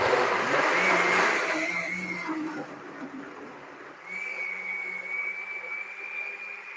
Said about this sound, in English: So I'm going to blend it right now.